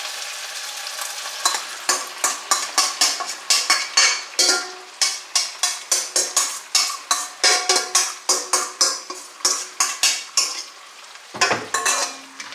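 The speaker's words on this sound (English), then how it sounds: "And give it a good mix." Ground turkey is mixed in a hot pan with a spatula, its rhythmic scraping strokes repeating steadily over a loud, continuous sizzle, close up with no talking.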